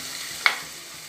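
Masala paste cooks for paneer butter masala, giving off a steady, soft frying hiss with one brief sharp clink from stirring midway.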